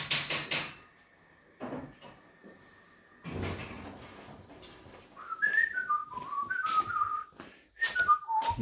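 A person whistles a short wandering tune near a Bedford CA camper van, with thumps and clatters of doors or cupboards beforehand and between phrases.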